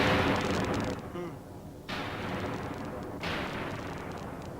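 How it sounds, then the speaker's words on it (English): A loud synthesized explosion rumbles continuously, with crackling, fireworks-like bursts renewing the blast twice in quick succession, produced by a vintage synthesizer effects box. "there's a fairly normal explosion, which is coming out of there"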